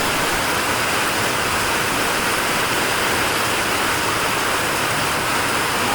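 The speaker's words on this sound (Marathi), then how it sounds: "भरपूर प्रमाणात असा पाऊस झालाय बघा" Heavy rain pours in a dense, continuous hiss with no breaks, loud and close, with no voices.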